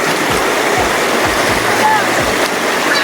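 River water rushing steadily and loud throughout, a dense continuous stream-like wash with occasional splashes and faint voices of people beside the river.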